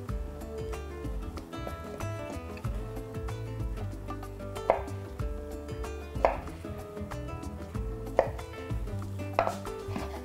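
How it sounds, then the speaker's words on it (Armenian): Carrots being chopped into small cubes with a knife on a board for spring rolls, steady repeated cuts with a few sharper knocks, close and fairly quiet, no talking. "Կտրատում ենք գազարները փոքր խորանարդիկների։"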